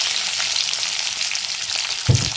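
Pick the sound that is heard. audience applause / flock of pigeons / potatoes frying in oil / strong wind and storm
potatoes frying in oil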